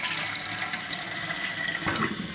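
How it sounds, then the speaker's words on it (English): A toilet flushing on its minimum water-saving setting gives a steady, close rush of water that runs evenly without pause. "Let's see how it flushes and how soon it goes down."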